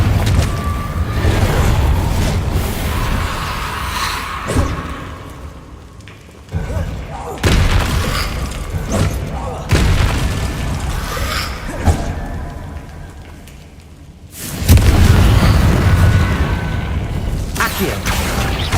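Confringo blasting spells cast in the game Hogwarts Legacy, a series of heavy booms and thuds spaced a few seconds apart amid combat whooshes and game noise.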